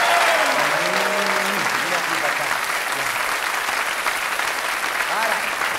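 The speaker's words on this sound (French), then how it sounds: "de la raccompagner à sa place sous les applaudissements nourris de la foule" A crowd applauds a stage performance at a live show, sustained dense clapping throughout, with some faint vocal sounds rising through the clapping.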